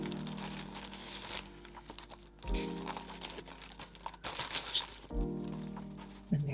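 A big Ziploc plastic bag crinkles and crackles in three close bursts of handling, with brief pauses between them and no talking.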